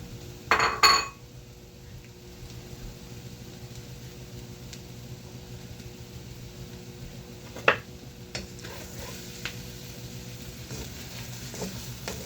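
Fresh cilantro being stirred into cooking vegetables in a pan for a plant-based dinner, with a low sizzle throughout and a few sharp utensil clinks against the pan.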